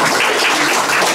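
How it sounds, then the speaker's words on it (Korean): A short burst of dense applause from an audience at a gallery exhibition and award ceremony, many hands clapping at once. "박수 부탁드립니다"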